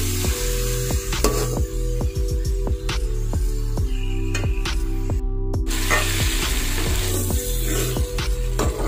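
Spices, bay leaf and tomatoes frying in a pan for chicken pulao, a steady loud sizzle with repeated stirring clicks and scrapes running throughout, no voices.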